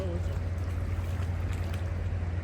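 A heavy, fully laden barge pushes through water, a steady low rumbling churn with broad wash noise holding constant throughout, fairly close, with light wind on the microphone.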